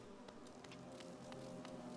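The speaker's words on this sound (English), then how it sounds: "Run from the bees!" Bees buzz in the video game Hollow Knight, a quiet continuous droning hum with small flutters and taps over it, with no voices.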